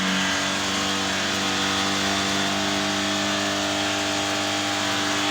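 A Honda CB250F motorcycle engine revs steadily after a throttle blip and holds a sustained high idle, loud and close, with no talking.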